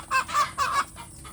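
Free-range village chickens in a coop during morning egg-laying, giving several close, loud clucks in quick succession, then quieter background fowl noise.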